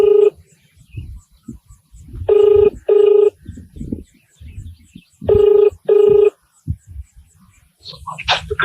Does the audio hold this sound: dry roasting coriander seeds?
no